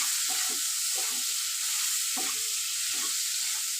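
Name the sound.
frying turmeric powder and green chillies in a pan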